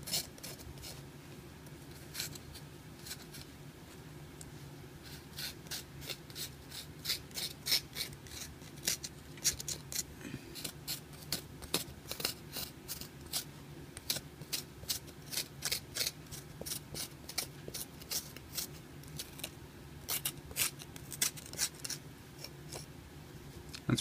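Cardoon stalks being scraped clean by hand in a kitchen, a steady run of quick, close rasping strokes that repeat throughout without talk.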